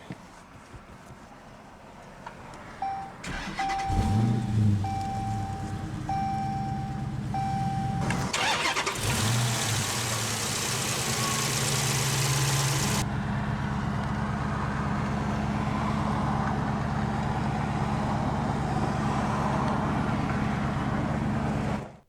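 The 6.4 Hemi V8 of a 2015 Dodge Challenger R/T Scat Pack cranks and roars to life with a loud rev, then settles into a steady, deep, rumbling idle close by.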